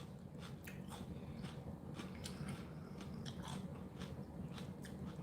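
Steady close chewing of a crisp raw Aji Delight pepper, with a string of small wet crunches spread evenly over several seconds and no voices.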